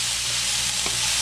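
Garlic for spaghetti sauce sizzles steadily in a hot pan, a continuous close, even crackle with a brief stir or scrape near the end, no voices.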